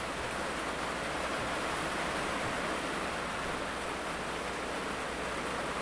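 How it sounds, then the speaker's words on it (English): Heavy rain pours outside, a loud, unbroken wash of hiss that holds steady and even from start to finish with nothing else standing out. "If you guys hear like sounds in the background, it's raining really hard, so that's the rain."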